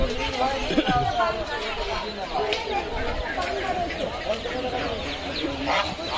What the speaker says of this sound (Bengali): ওই তো দুটো মুরগি আর দুটো রাজহাঁস